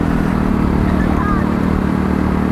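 Sinnis Matrix motorcycle ridden through Brighton's low-speed 20 to 30 mph zones: a steady, continuous engine drone with road and wind rumble that stays close and fairly loud throughout.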